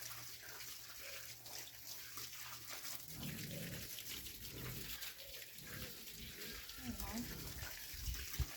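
Fruit is washed under running water, a steady low gush and splash that continues throughout, with talk over it.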